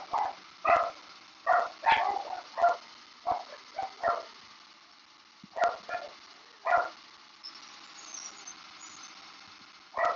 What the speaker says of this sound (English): My annoying dogs.